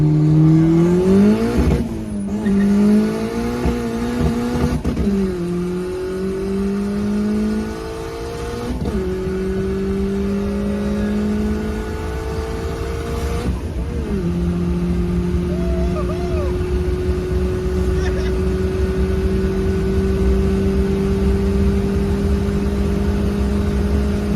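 A boosted Honda Civic EK engine revs up hard through the gears on a highway, pitch climbing with each pull, loud and steady with brief drops at the shifts.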